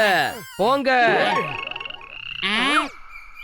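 Small cartoon frog croaking in a Motu Patlu animation, three loud, close, bubbly croaks with bending tonal warbles, separated by short gaps.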